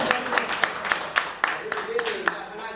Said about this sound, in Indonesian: Tepuk tangan buat Pak Victor